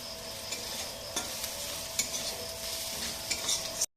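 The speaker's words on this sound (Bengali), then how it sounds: "এরকম পেঁয়াজটা ভাজতে হবে।" Onion frying in hot oil in a pan until browned, a steady sizzle close by with small bursts of stirring scattered through, running alone with no voices and stopping abruptly at the end.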